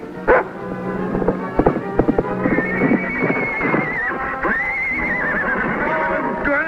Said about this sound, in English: Now I got a crazy horse after me, too.